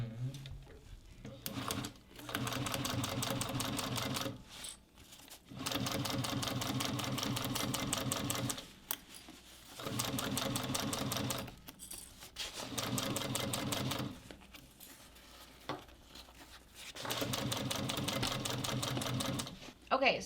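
A Juki sewing machine topstitches a bucket bag in five steady, rapid mechanical runs of stitching, each lasting a couple of seconds and separated by short pauses, close and clear.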